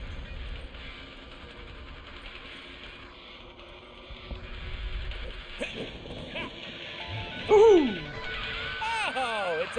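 Small dog yapping in the Deadpool video game, a few short high yips and whimpers near the end over a game soundtrack and background hum, with people talking.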